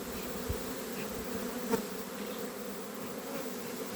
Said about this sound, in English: And I got bees here.